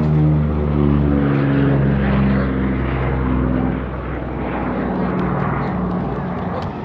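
Propeller airplane at the Reno air show, a loud, close, continuous engine drone with a pronounced low harmonic hum that shifts slightly in pitch, sounding alone throughout.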